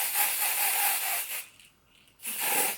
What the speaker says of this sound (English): I need to spray this cap a little bit more